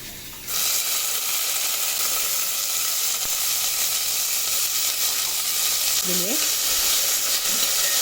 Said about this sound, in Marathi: आता ही पहिल्यांदा आपण ना थोडी तेलात भाजून घेऊया